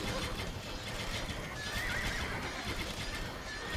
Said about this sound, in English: Trebuchets can't do a whole lot against horse-mounted cavalry